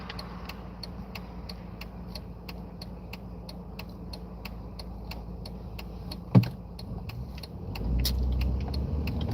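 Inside a driving car, a steady rapid ticking runs throughout, a single dull thump lands partway, and then a low engine rumble swells near the end.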